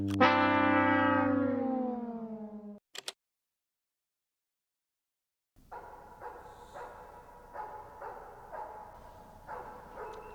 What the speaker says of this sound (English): Sounds like a dog barking.